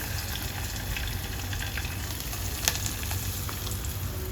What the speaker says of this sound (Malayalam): ഇനി നമുക്ക് നമ്മുടെ കറിയിലേക്ക് ഒഴിച്ചു കൊടുക്കാം